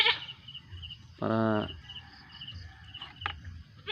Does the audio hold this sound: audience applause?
no